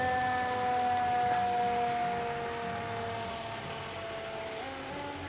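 The town's last fire truck passes in a Christmas parade in Lachute: a wailing siren with tonal horn blasts over engine rumble and air-brake hiss, loud and steady throughout with no talk.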